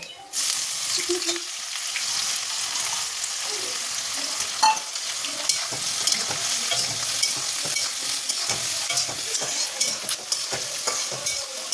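Onions sizzling and frying steadily in hot oil for dum biryani, with occasional stirring clinks over a continuous crackling hiss; no talk.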